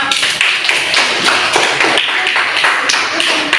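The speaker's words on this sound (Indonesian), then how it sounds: "Tepuk tangan." Classroom applause during a primary school lesson, a sharp, close burst of children clapping in loose rhythm with some voices under it.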